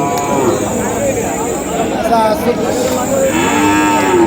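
Desi, Sindhi and Sahiwal cross cows low repeatedly at the Chandimura cattle market in Comilla, with drawn-out moos rising over a steady murmur of crowd chatter and nearby voices.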